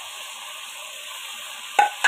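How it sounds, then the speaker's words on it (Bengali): Fish head frying with spices, potato and sugar in a pan, a steady close sizzle throughout, with a brief stirring scrape near the end. "এটাকে দিয়েও আমি ভালো করে একটু কষে নিব মশলার সাথে"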